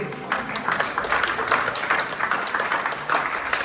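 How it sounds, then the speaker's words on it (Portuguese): A congregation at a church service claps for Jesus, a steady patter of many hands spread across the whole stretch, moderately loud with no voices standing out. "Vamos dar uma grande salva de palmas para Jesus."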